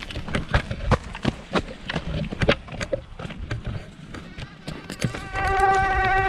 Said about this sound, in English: I probably have 20 mosquitoes on me right now